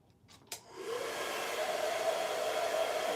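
A handheld hair dryer clicks on and settles into a steady, loud whooshing drone while drying hair during a quick weave install, with no voices over it.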